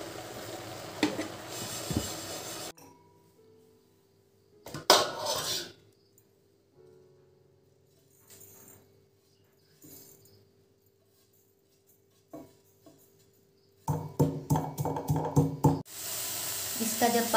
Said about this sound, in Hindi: इन द मीन टाइम हम लोग काला तिल भी थोड़ा से रोस्ट कर लेगा।